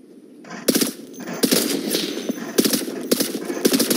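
Rapid bursts of gunfire in the Fortnite video game crack out loud and close in repeated volleys, with short gaps between strings of shots.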